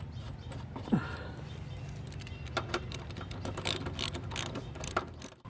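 A ratchet tightens the center bolt of a lawn mower blade, giving a series of quick dry clicking strokes over a low background hum, close and moderately loud.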